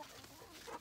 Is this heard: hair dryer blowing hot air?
no